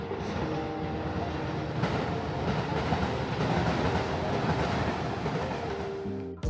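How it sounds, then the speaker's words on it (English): A train rumbles past below a bamboo forest in Kyoto, a steady clattering roar of rail cars that holds fairly close and even before cutting off abruptly. "Also, there's a train down there."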